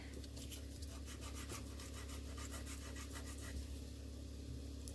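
Sandpaper rubbing along the edge of a polymer clay pendant, a soft, close scraping in short repeated strokes over a low steady background hum.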